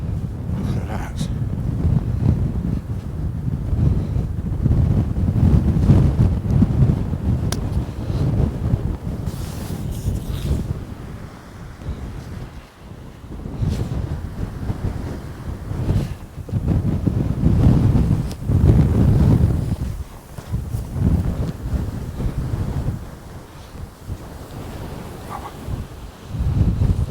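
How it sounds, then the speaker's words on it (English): Strong wind buffets the microphone beside Loch Etive in the Scottish early morning, a loud, continuous low roar that surges and eases in gusts, with faint water sounds beneath. "that wind is really strong"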